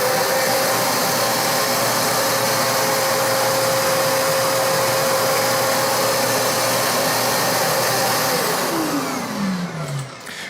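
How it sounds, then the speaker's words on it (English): A Shark ZU102 Rotator Pet upright vacuum runs loud and steady with a constant high motor whine, then its pitch slides down as the motor winds off near the end; no talking. "I'm gonna adjust the head so it's high enough to pick up the beans and start it again."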